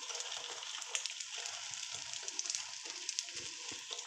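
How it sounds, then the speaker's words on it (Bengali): Eggs frying in hot oil in a pan for a masala omelette, a steady soft crackling sizzle with scattered small pops, close and moderately quiet, with no talk. "তেলটা আমার গরম হয়ে গেছে, এবার আমি ডিমটা দিয়ে দিলাম।"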